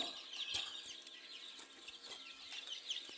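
Young quail, about twenty days old, flutter and call inside a quail farm enclosure, making faint, high chirps and scattered wingbeat flurries against a quiet background.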